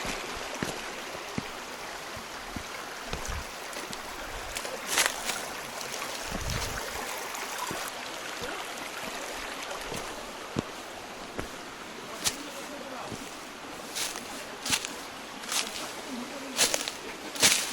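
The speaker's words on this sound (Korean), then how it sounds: "물소리" A mountain stream at a Gangwon-do campsite flows steadily, a broad continuous rush with scattered clicks and small knocks on top, heard fairly close and moderately loud throughout.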